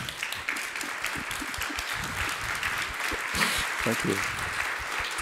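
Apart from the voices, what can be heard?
standing applause at a summit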